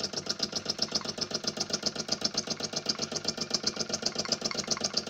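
A scratch-built live steam engine running without a throttle, giving a fast, even chuffing beat that repeats steadily and close up with no talking.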